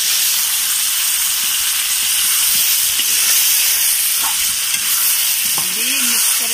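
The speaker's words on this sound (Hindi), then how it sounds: "अभी डालने जा रहे हैं बॉयलर का पेटुका और कलीजा।" Broiler chicken stomach and liver hit a hot pan, setting off a loud, steady, hissing sizzle that runs throughout, with faint stirring scrapes near the end.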